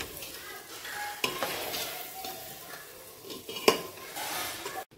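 Fried onion masala with boiled white chickpeas being stirred in an oil-coated pan, a spoon scraping steadily over soft sizzling with a couple of sharp clinks against the metal rim.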